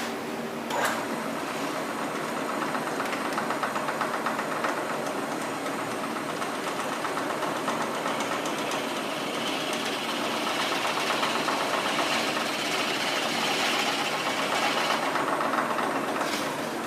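A drill boring hardware holes into a Pearl marching tenor drum shell with a stepped bit, a continuous grinding whir held steadily for the whole stretch, fairly close and without speech.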